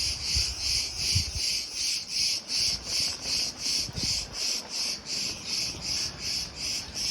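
Cicadas in Greece buzz in a loud, pulsing rhythm of regular rasping bursts, close by, over faint background rumble and light outdoor noise.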